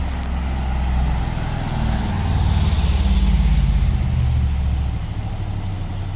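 Heavy diesel rumble of a terminating city bus idling close by, a steady low engine drone with faint high hiss, continuous and fairly loud with no talk.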